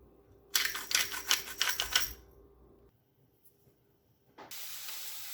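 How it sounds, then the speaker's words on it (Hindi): Broccoli fries in olive oil in a pan, giving a burst of sharp crackles and spits for a couple of seconds. After a quiet gap a steady close hiss returns at the end. "एक पैन में हमने तकरीबन 1 चमचा ऑलिव ऑयल डाला। इसमें हम फ्राई कर रहे हैं ब्रोकली।"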